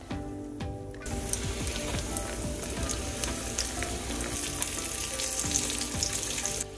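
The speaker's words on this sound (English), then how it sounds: "now we're gonna add the mushrooms to the hot oil and start frying these up" Steady, loud sizzling and crackling of mushrooms frying in hot oil, continuous throughout with occasional scraping stirs and no voices.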